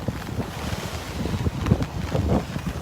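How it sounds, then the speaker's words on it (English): Wind gusting across a beach during a tropical storm, a loud rough rumble with surges and buffeting bursts against the microphone, steady throughout with no talking. "Little gust of wind coming through."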